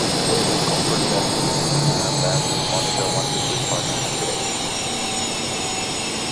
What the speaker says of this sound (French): Le son moteur est bon, quoique un peu faiblard